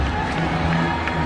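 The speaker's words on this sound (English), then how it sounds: "Gets a good round of applause from his teammates and also from the crowd." Stadium crowd at a one-day international cricket match roars and applauds, a loud continuous wash of cheering and clapping with a voice talking over it.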